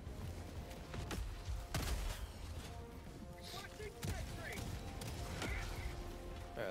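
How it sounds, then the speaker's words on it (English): An autocannon sentry fires in a video game, with sharp bursts and a few heavy booming shots landing at intervals, fairly close but low in level under ongoing voices talking. "That autocannon sentry is awfully fucking close, Brett. That shit is gonna blow us to smithereens."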